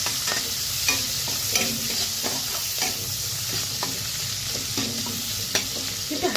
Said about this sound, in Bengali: চেরা কাঁচা লঙ্কা দিয়ে দিলাম।